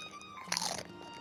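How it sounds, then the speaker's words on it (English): Smoky bacon crisps crunched in the mouth close to the microphone, one short crisp bite burst standing out against a quiet background. "So forgive me if you hear me crunching here and there."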